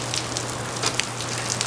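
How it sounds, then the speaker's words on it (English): Rain falling steadily outside a shop in Iowa, a continuous fine hiss with scattered close drop patters and no voices. "we're getting rain. I hear rain, I hear rain."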